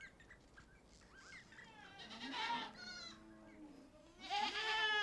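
Goats bleat in a herd kept by Hamar herders, several wavering cries overlapping at a middle distance, the loudest near the end, over a soft outdoor background.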